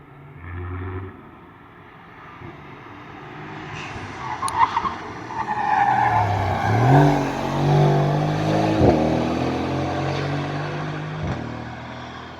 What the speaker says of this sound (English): Let's wait till the car passes.